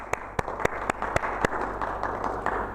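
A few distinct claps ring out at a school end-of-year reward assembly for Christchurch champions, spaced and fairly loud over a murmuring hall, with no clear sustained applause.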